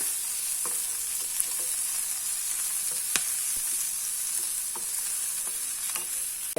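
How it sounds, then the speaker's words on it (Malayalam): Chopped onion and curry leaves sautéing in a pan, a constant hissing sizzle with scattered soft taps and scrapes from stirring. "സവാള അരിഞ്ഞത് കൂടെ, രണ്ടും കൂടെ അങ്ങ് വഴന്നോളും."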